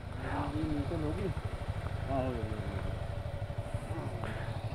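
A TVS Apache RR 310 motorcycle engine runs with a steady low throb at night in Ladakh, close by, while people talk over it.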